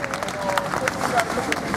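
Audience applause and crowd noise at an RBCi radio festival stage show, a short burst of clapping and murmuring with voices mixed in.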